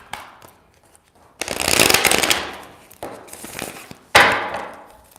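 Tarot cards being shuffled for an Aries reading, with two loud bursts of rapid riffling and softer handling in between, close by and with no talk.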